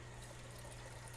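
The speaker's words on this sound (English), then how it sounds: "Waterfall." An aquarium filter's waterfall outflow pours into a 54-gallon corner fish tank as a constant, even rush of splashing water, close and steady, with no voices.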